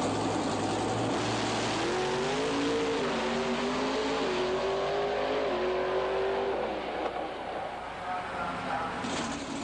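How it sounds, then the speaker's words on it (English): A pro stock drag race car doing a burnout at an outlaw drag race: a loud, sustained engine roar whose pitch rises and wavers for several seconds, then eases off, with the crowd and track noise behind it. "Rich Buman in the B&B performance car, doing the burnout"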